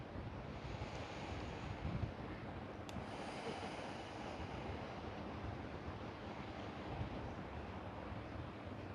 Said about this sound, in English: We chose to be outside here today at Kitty Inlet with the water